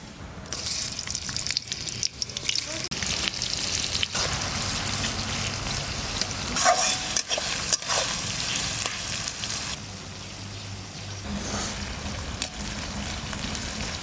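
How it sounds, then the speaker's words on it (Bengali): Onions frying in white oil in a hot kadai for beresta, a steady crackling sizzle with shifting bursts and spatters, close and continuous throughout. "বেরেস্তা প্রায় ভাজা হয়ে গেছে"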